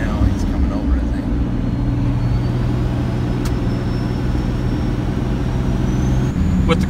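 A 24-valve Cummins diesel truck with compound turbos pulls a heavy load up a steep canyon highway, giving a continuous low engine drone with road noise that holds steady throughout.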